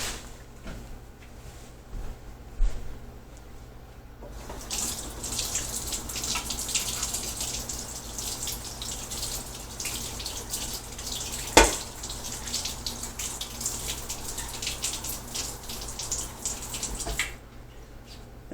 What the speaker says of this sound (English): I'm going to run it under the water real quick.